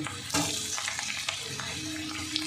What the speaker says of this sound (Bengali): এটা দিয়েও একটু ভেজে নেব। আদা রসুনটা একটু ভেজে নিয়েছি।